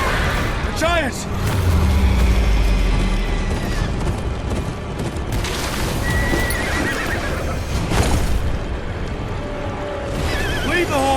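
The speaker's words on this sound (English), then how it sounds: "Leave the horses!" Horses in a Game of Thrones video game whinny and neigh over the clatter of hooves, with a busy, loud backdrop of rumbling action and faint shouting voices.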